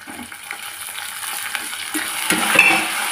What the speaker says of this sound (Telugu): ఆనియన్స్ కూడా బాగా వేగాలి